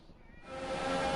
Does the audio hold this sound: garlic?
no